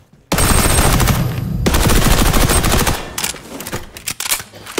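An MP5 submachine gun fires in XDefiant in a long rapid automatic burst, loud and dense, then breaks into shorter sputtering shots that tail off.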